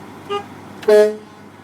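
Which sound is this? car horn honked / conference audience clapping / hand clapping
car horn honked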